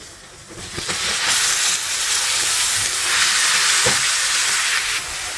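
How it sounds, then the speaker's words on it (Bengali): Garlic hitting hot mustard oil in a pan for mango pickle bursts into a loud, continuous hissing sizzle that holds steady for several seconds, close and alone without talk. "সরিষার তেল দিলে পরে এভাবে রসুন দিয়েছি তাই উতরিয়ে উঠেছে"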